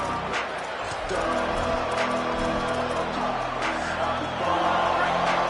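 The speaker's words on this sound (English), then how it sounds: "This crowd bringing the energy and noise early." Stadium crowd noise from the College Football 27 video game, a constant thick roar with rising swells and cheers, rumbling continuously beneath the game's soundscape.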